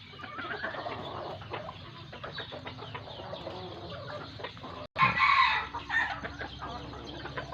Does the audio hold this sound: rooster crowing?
yes